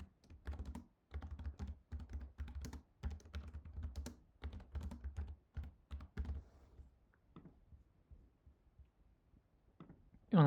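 Typing on a computer keyboard, quick close bursts of key clicks and thunks in short runs with brief pauses, quiet and dry, trailing off toward the end, with no talking.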